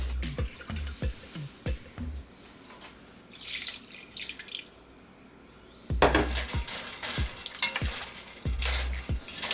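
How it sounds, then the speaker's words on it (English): Water pours into a pot of simmering Jamaican curry goat meat, with bursts of splashing and sizzling between quieter gaps, plus scattered clinks and knocks from the pot nearby. "I'm gonna add a few cups of water into the goat meat"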